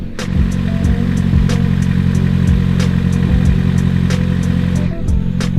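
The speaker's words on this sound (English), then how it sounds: "Right now it's idling like fucking beautifully." A car engine idles steadily up close, a low even rumble with faint periodic ticking throughout, no voices.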